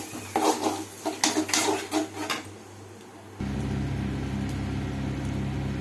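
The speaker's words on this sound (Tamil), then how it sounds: "இப்போ எக் போட்டாச்சு நல்லா வதக்கணும்" Two eggs being stirred and sautéed in a pan for Tamil-style egg podimas: a utensil scrapes and clinks against the pan in quick bursts at first, then gives way to a steady, even cooking hiss.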